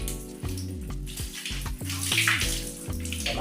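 Water runs and splashes steadily into a bathroom sink during cleaning after drain removal, close and continuous with uneven gurgling surges.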